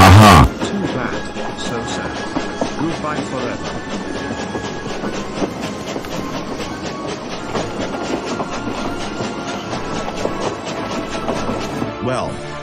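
A train rolls along the rails with a rhythmic clickety-clack of wheels over joints, steady and close, after a brief loud burst at the start.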